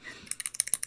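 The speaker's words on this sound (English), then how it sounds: "Who is typing like that?" Rapid typing on a computer keyboard, a quick run of about ten crisp, close key clicks in steady rhythm, preceded by a faint murmur.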